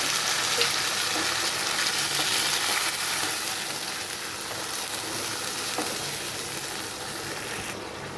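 Ground ginger spice paste hits hot oil in a pan with fried potatoes for a Bengali fish curry, giving a steady, loud broadband sizzle that fades only slightly over several seconds.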